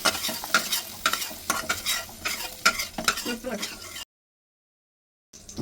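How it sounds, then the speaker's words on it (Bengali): Green peas frying in oil, busy crackling sizzle with rhythmic stirring scrapes for about four seconds before the sound cuts out, then briefly resumes. "এবার মটরশুঁটিগুলোকে 1 থেকে 2 মিনিটের মতো ভেজে নিয়ে তুলে নিচ্ছি।"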